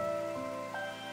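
Rain in the video game Monochrome Mobius: Rights and Wrongs Forgotten patters as a soft, even hiss on surfaces beneath sustained tonal game music, with no talking.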